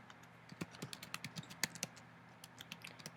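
Typing on a computer keyboard, close and fairly quiet, with a quick irregular run of distinct key clicks and short pauses between bursts.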